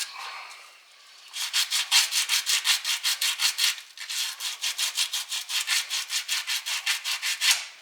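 A brush scrubs a metal alternator bracket on a 1963 Buick Special engine in quick, rhythmic back-and-forth strokes, close and loud, with a brief pause partway through.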